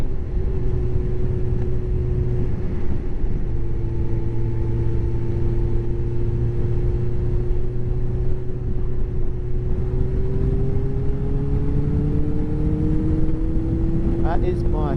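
A motorbike overtakes on a country road in quite a high gear, its steady engine drone rising slightly in pitch toward the end over continuous wind rush, with a rider talking throughout.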